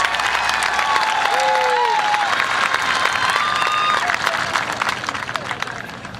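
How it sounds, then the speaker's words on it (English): An audience at a high school graduation ceremony claps and cheers loudly at the start, and the applause gradually thins and fades toward the end. "Let's give them a hand."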